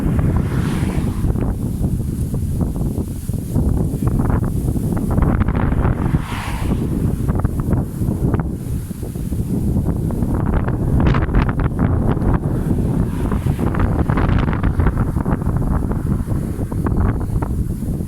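Strong wind buffeting the microphone outdoors in rain, a loud continuous rumbling roar with gusty swells throughout, no voices heard.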